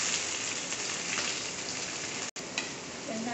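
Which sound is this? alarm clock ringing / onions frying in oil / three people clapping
onions frying in oil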